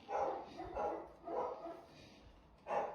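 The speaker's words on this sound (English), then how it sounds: "Dogs barking." Dogs bark in four loud, fairly close bursts, evenly spaced with short pauses between them and no talking.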